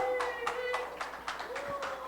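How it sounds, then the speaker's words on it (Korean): Audience clapping at a Korean trio concert on a special stage, a short run of evenly spaced claps with some talk over it. "여러분 격려 박수 한번 주시겠어요?"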